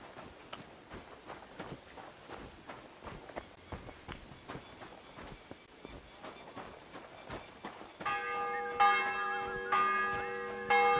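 Church bell pealing in Kingdom Come: Deliverance 2, starting about two-thirds through as a loud, sustained ringing that rises over footsteps and hoof clip-clops from the game's ambience.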